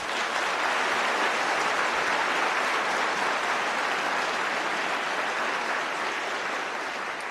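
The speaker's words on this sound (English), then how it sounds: "Please join me in a round of applause to show our appreciation to these individuals" A dense, steady round of applause fills a concert hall after the Harford County All County Chorus 2018 school concert. The clapping is sustained and even, with no voices, and thins slightly near the end.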